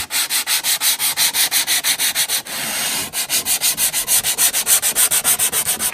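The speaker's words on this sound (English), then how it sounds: "I'm scratching the shiny surface around the perimeter" Sandpaper scratches back and forth across the shiny painted surface of a car body panel in quick, rhythmic strokes, with a brief steady rub midway, close and loud with no speech.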